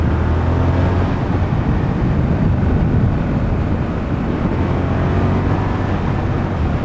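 A 24-year-old Suzuki SV650 S motorcycle engine drones steadily at close range while riding, with a constant low hum and heavy wind rush over the microphone throughout.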